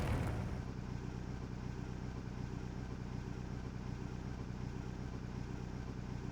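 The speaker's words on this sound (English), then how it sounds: "Only the sound of the engine roars." A car engine idles in a visual novel video game, a steady low rumbling drone that runs continuously and evenly throughout after a brief louder start, with no voices.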